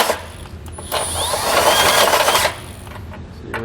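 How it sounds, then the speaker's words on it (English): A step drill bit bores out and enlarges a hole in the steel frame of a 2019 Subaru Crosstrek for a trailer hitch receiver, giving a close, steady grinding whine that swells for about a second and a half before easing off. "What I'm going to use is I'm going to use a step bit."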